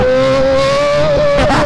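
Kawasaki Z1000 motorcycle engine roars steadily at high revs in traffic, a loud sustained drone with a rising pitch and a slight waver near the end, no talk over it.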